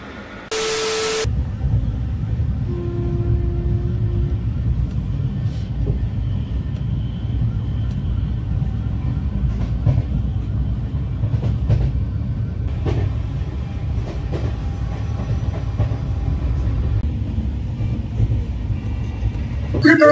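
An overnight passenger train runs on its rails at night with a steady, loud low rumble and hiss that carries on throughout. There are occasional faint clicks and a short tone near the start.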